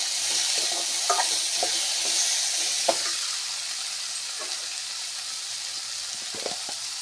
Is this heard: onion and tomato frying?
yes